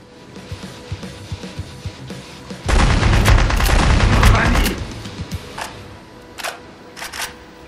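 A sudden burst of rapid, loud gunfire from the video game Scorpion Disfigured lasts about two seconds. Scattered single shots and clicks come before and after it.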